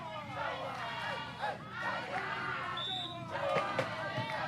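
Spectators cheer and shout at a youth volleyball match at the Region 5 Youth Games, a dense, steady crowd roar with rising yells and whistles near the end.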